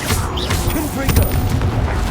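Dense booming blasts and crackling impacts from fire-spell combat in Hogwarts Legacy, loud and continuous through the whole stretch, with spoken voices mixed in among the explosions.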